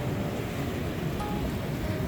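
Ocean surf surging at low tide on an Oregon coast beach, a steady broadband wash of breaking waves with wind across the microphone, continuous and fairly loud with no voices.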